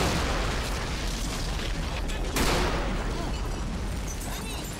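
Mortar explosions in a 1919 Hungary versus Romania battle game with an interwar mod: dense, continuous rumbling blasts and bursts, loud and broadband, with a sharper boom midway through and no talk.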